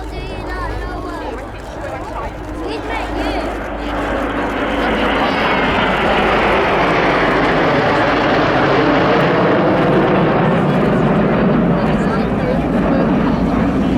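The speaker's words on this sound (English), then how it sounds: "So the Tornado GR4 heading back home." A Tornado GR4 jet at the Cosford air show flies past, its engine roar building from a distance into a loud, sustained rumble that fills the scene. A voice commentates over the noise.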